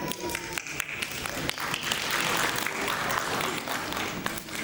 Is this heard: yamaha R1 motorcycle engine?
no